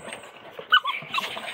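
Labrador puppies give a few soft whimpers and yips close by, with one brief louder cry partway through and no voices over them.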